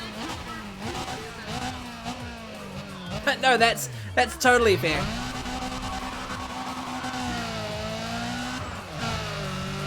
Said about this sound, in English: The constant bouncing off the rev limiter of the S15.